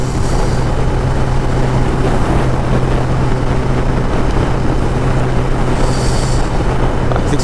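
A Kawasaki ZX-10R sportbike rides at speed, heard as a steady, loud engine drone buried in heavy wind rush for the whole stretch, with no talk.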